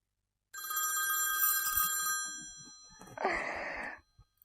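Telephone ringing indoors in a Pakistani drama scene: one bright electronic ring burst, a short pause, then a second ring cut short.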